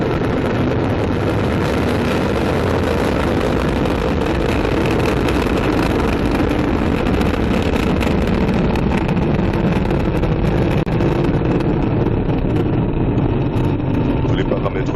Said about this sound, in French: Allumage Vulcain. Allumage EAP, décollage.